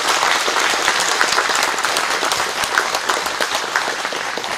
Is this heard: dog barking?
no